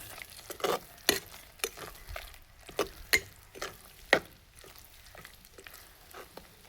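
A spoon scrapes and stirs through squid roast with curry leaves frying in a pan, producing irregular nearby clacks over a soft background sizzle.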